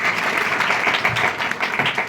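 A crowd claps steadily, dense and continuous applause filling the short moment.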